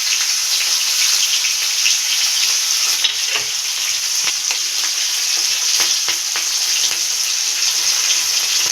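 Chopped onions fry in oil in a wok, giving a loud, continuous dense sizzle heard up close throughout, with faint crackles and occasional light clicks on top and no talking.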